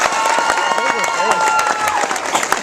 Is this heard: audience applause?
yes